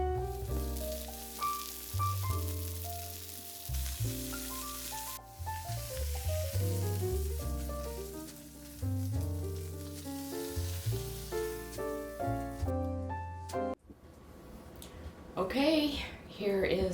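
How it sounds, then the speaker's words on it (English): Steaks searing in a hot pan give a steady sizzle beneath loud music throughout, with people talking near the end. "I'm going to sear up our steaks"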